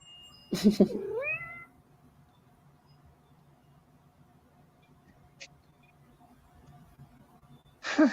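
A cat gives one clear, close meow with a rising and falling pitch, followed by long quiet stretches with faint room noise and a brief sound at the very end.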